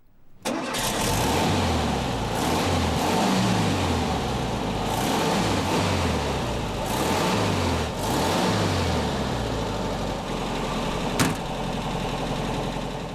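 An air-cooled four-cylinder boxer engine in a 1973 VW Beetle Convertible starts up and revs repeatedly in rising and falling bursts, close and loud, then settles into a throaty idle.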